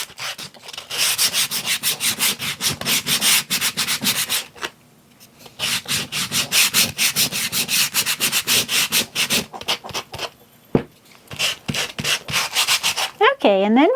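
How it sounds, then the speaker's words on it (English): A wooden piece is sanded by hand with 80 grit sandpaper to distress it, producing loud, close, rhythmic back-and-forth rasping strokes in long runs separated by brief pauses. "It is 80 grit."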